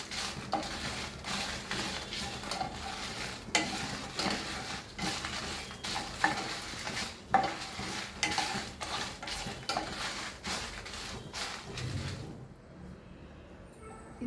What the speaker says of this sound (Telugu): దీని తర్వాత కొంచెం వెల్లుల్లిపాయలు, మిరపకాయలు వేసి కొంచెం వేయించాక